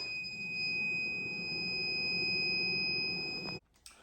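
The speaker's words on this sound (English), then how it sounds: "another feature I like about this machine is it has an alarm on it if your water cooler is not plugged in" An induction forge sounds its alarm for an unplugged water cooler, a loud steady high-pitched multi-tone whine that holds for several seconds and then cuts off abruptly, followed by a faint clunk.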